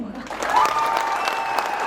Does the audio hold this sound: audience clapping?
yes